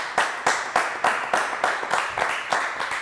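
A studio audience on a French TV show claps for a singer in a steady, rhythmic unison beat, loud and close, with no talking over it.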